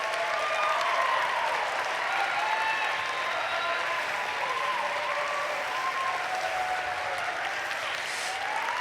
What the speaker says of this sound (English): Cheer for your fellow graduates here today.